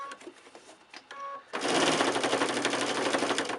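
A sewing machine stitches with a quarter-inch foot, outlining a quilted fabric letter along a black stitched line, running as a loud, steady buzzing drone after a quieter stretch of scattered clicks and taps at the start.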